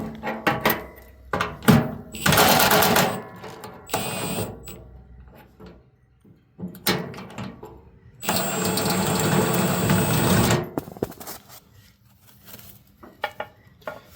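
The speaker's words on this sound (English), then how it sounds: "if you spin the outside one off just a little bit with the impact" Impact wrench spinning 3/4-inch lock nuts off a Woodmaxx flail mower, in loud close whirring bursts of about two seconds each, separated by quieter clicks and handling noise.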